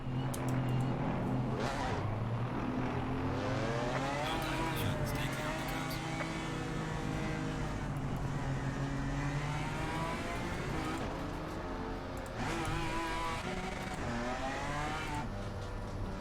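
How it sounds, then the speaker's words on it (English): A GT4 touring race car engine in the game Assetto Corsa Competizione revs and roars through gear changes, rising and falling in pitch continuously, loud and close, with brief tire noise. "Touring car sound."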